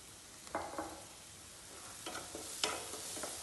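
Sliced onions frying in a pan with salt, a faint, quiet sizzle broken by a few soft scraping stirs of a spoon, without any talking.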